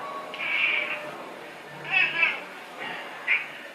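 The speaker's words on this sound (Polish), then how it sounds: "To jest kot. Nie lubi, nie lubi gorąca, więc miałczy." Several short cat meows in a home-brewing kitchen, in an uneven series, nearby and moderately loud, with brief gaps and faint background noise between them.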